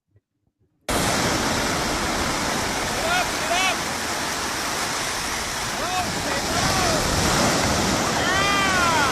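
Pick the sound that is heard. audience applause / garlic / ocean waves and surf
ocean waves and surf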